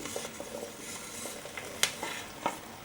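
Zucchini and two bell peppers being stirred in a hot pan, with a steady soft sizzle, a spoon scraping and occasional sharp clinks against the pan, heard up close with no voices.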